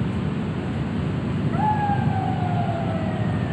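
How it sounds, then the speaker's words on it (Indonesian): An ambulance siren near Setu Cikaret in Cibinong wails in from a distance as a single gliding tone partway through, over a steady background hum with no talking. "ambulan"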